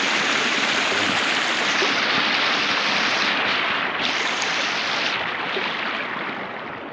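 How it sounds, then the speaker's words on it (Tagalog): River current rushing over a small falls, a steady broadband roar of water holding loud and close throughout, easing slightly toward the end. "Doon medyo malakas yung agos mga buds. Parang falls na maliit lang"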